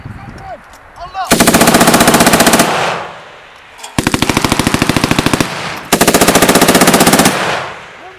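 Loud machine gun fire in three long, steady bursts separated by short pauses, with faint shouting between them.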